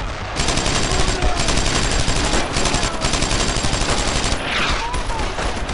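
Dense, continuous gunfire in the World War II shooter Brothers in Arms, loud and close, with overlapping bursts from several weapons and shouting voices mixed in.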